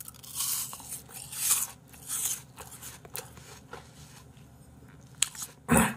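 Crisp bites and crunching into a fresh apple, a few loud crunch bursts spread over several seconds, close to the mic with no talking.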